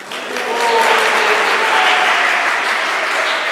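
An audience at a devotional morning aarti discourse in Udhampur breaks into applause, a dense, steady clapping that swells after a brief start and continues evenly, with a voice faintly audible beneath.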